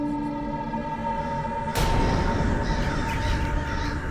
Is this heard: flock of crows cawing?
yes